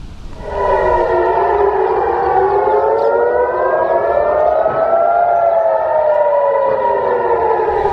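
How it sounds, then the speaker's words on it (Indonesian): Civil defense air raid sirens in Jerusalem wail during an Iranian missile attack, several overlapping tones slowly rising and falling, loud and sustained after a brief quiet start, with no voices. "Sirena terdengar meraung saat Israel dan Iran saling melancarkan serangan untuk pertama kalinya sejak gencatan senjata."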